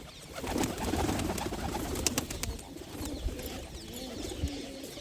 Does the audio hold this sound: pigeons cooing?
yes